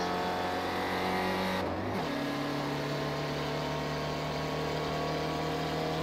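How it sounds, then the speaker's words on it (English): In an online racing game at Watkins Glen, a race car engine drones loudly and then drops sharply in pitch as the car goes by, followed by a steady lower engine tone. "We got our race leader coming around 2 turns until the start-finish line."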